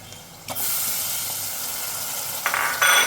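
Prawns hit a hot pan and sizzle, a bright steady hiss that jumps up sharply as they go in and swells again as they are stirred, with no talking.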